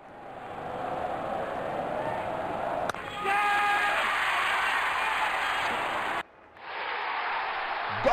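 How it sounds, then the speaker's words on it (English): A video game crowd cheers at a cricket match, a continuous roaring swell that jumps louder midway, briefly drops out, then returns, with a commentator talking over it. "Crowd is going crazy."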